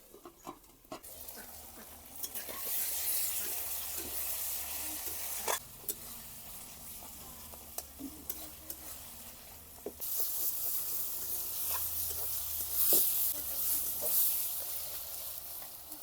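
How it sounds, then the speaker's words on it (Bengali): Onion, tomato, turmeric and spice masala sautéing in a pan for pork curry, a continuous hissing sizzle broken by repeated sharp scraping and stirring clicks, near and fairly quiet, with no one speaking. "বাকি পেঁয়াজগুলো দিয়ে দেব। ভালো করে মশলাটা কষিয়ে নেব।"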